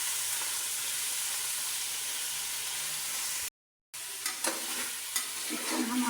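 Chicken frying in a pan for a chicken korma, a steady loud sizzle with hissing and stirring, broken by a brief silence before the frying resumes with scraping clatter.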